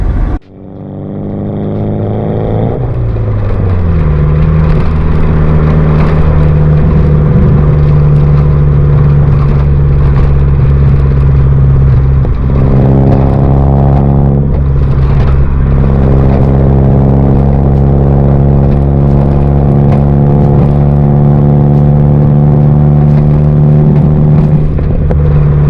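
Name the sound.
SR20DET engine in Datsun mini truck warming up, revving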